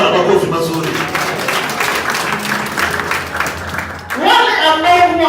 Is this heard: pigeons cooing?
no